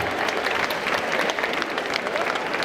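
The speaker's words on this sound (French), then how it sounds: "On peut l'applaudir." Steady, dense clapping from an audience at a hypnosis show at a convention, sustained for a few seconds without breaks, with no clear voices rising above it.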